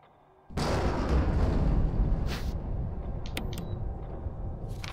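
Thunder crack in the Resident Evil video game: a sudden loud boom at about half a second, then a long heavy rumble that slowly fades, with faint sharp clicks partway through.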